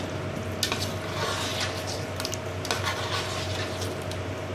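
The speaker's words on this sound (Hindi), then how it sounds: "अब इसे हम थोड़ी देर के लिए भूनेंगे।" Koftas frying in masala in a pan, with a soft steady sizzle and a few sharp utensil clacks against the pan, fairly quiet and without talking.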